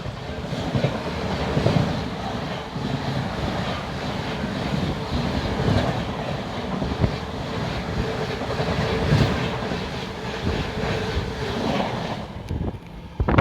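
An Amrit Bharat 2.0 Howrah Rajdhani express train rushes past at speed on a flat run, a steady loud roar of rolling wheels and wind buffeting that holds throughout, then drops away at the end.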